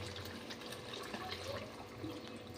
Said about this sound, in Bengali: এবার আমি এর মধ্যে আগে থেকে গরম করা জল দিয়ে দিচ্ছি।